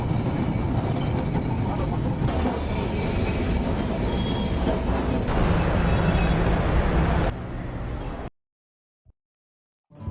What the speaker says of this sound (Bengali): ট্রামে এখন আমরা উঠবো, উঠে আমরা যাবো টালিগঞ্জে।